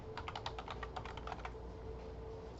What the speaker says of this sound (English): in the search field, and we're going to type